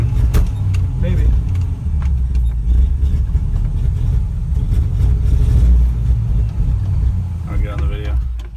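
A 1967 Chevrolet C50 dump truck engine runs steadily with a low, rumbling drone while driving, light throttle blips swelling it briefly, and a voice speaks near the end.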